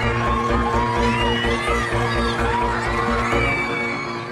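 A large crowd gathered outdoors waiting to see the Queen, a busy wash of many voices with cheers, whoops and children's shouts over a low steady hum, continuous and fairly loud.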